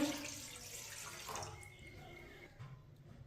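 Water is poured from a glass onto washed masoor lentils in a pot, a close splashing pour that tapers off within a few seconds and is heard alone.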